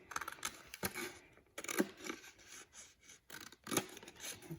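Quiet crisp snipping and rasping of scissors slicing through paper, several short cuts in an uneven rhythm, close by with no talking.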